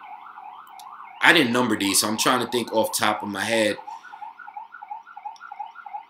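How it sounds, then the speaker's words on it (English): Wailing emergency siren on a New York City street, a steady warbling tone running throughout, with someone talking loudly over it for several seconds in the middle. "Sorry for the sirens, man."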